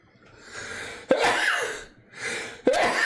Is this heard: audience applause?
no